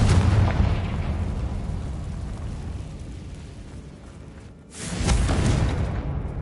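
A Confringo blast from Hogwarts Legacy: a sustained, loud rumbling burst that fades, then a second booming eruption near the end, with no talk.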